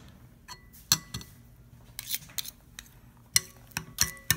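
A spoon stirring sauce with mayonnaise, sriracha and condensed milk in a bowl, giving scattered close clinks and scrapes against the dish, a few sharper taps among quieter stirring.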